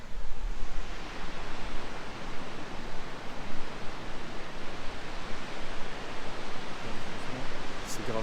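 A rushing waterfall in Canada roars as a continuous, broadband wash of falling water, loud and close, steady with slight surges and no voices.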